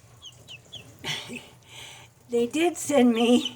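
Soft high peeping chirps from young chicks kept with Muscovy ducks come in a few short bursts, followed by people talking nearby.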